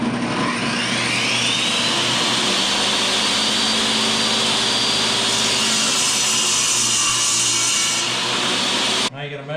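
A power saw runs steadily and loudly while cutting the ends off a wooden cutting board, a close, sustained roar with a rising whine through the cut before it abruptly stops.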